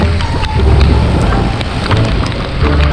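Steady, dense rain pours down without a break, a loud broadband wash with a low rumble beneath it.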